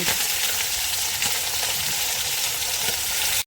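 Bhola fish tandoori fries in a hot pan while being turned: a loud, dense, continuous sizzle that stays close and even before cutting off abruptly.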